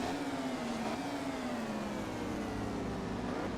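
A racing motorcycle engine in MotoGP 15 holds a high, strained rev as the bike is pushed hard around the Argentina track, its pitch wavering slightly, steady and fairly quiet with no voices over it.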